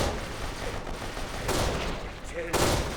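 Gunfire from a weapon in the video game Kane and Lynch 2, a sustained stream of shots with louder bursts near the middle and end, set in a dense, noisy firefight.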